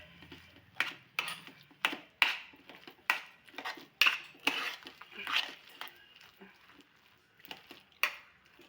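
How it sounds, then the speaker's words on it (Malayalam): A spoon works through a thick cooked jackfruit mixture in a pot, producing a series of distinct scraping and clinking strokes in an uneven rhythm that thin out toward the end, close and fairly quiet with no talk. "നമുക്കൊന്ന് നല്ലതുപോലെ ഒന്ന് മിക്സ് ചെയ്ത് നല്ലതുപോലെ ഇളക്കിയെടുക്കണം."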